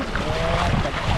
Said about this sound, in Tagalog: Lamig, ang hangin.